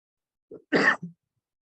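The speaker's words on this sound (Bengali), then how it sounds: "আমি একটু কথা বললে আমার এখনো কাশি হয়" A single short cough, a small catch of breath, then one harsh bark and a brief trailing hack, close and alone against silence.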